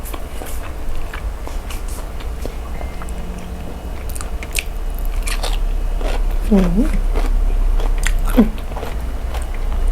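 Biting and chewing crunchy fermented pork skin sausage with chili, eaten by hand with hot steamed rice; close, crisp crunches and squishy chews scattered over a steady low background hum, with a few brief voiced sounds.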